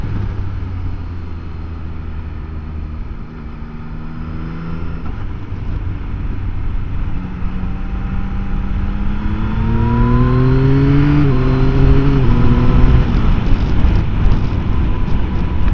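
A 2024 Yamaha XSR900 motorcycle engine on a ride pulls through the gears with a loud, steady drone whose pitch climbs in repeated rising sweeps as it accelerates, heard alone with no voices.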